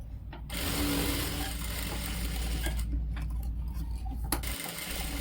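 A sewing machine stitches two folded frock fabric pieces, the front and back parts of a baby's dress, with a continuous fast mechanical whirr and rapid ticking at moderate volume, with no talking.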